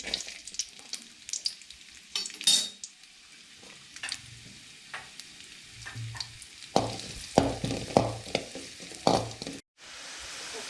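Carrots sizzle in a hot pan as they are stir-fried for veg manchurian, with quiet frying and a series of scraping and tossing clatters from the spatula, close and fairly soft.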